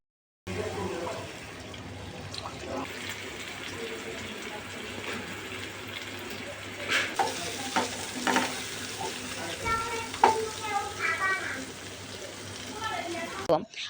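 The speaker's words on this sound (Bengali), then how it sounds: "পরে চিকেনগুলো দিয়ে দিব চিকেনটা কিছুটা নেড়ে নেব" Chicken pieces stirred with spices in hot oil in a pan for a spicy momo filling, a steady sizzle throughout with clinking spatula scrapes and stirring bursts that grow busier toward the end.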